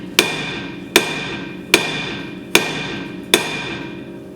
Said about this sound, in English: You want me to hammer the fuck out of it?